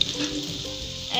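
Garlic sizzles in hot oil in a pan while spicy cutlets are being made, a short, close, steady crackling hiss with no talking.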